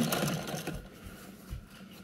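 Vintage sewing machine stitching a bag, with a brief burst of close, rapid mechanical clatter that fades into quieter handling sounds and no talk.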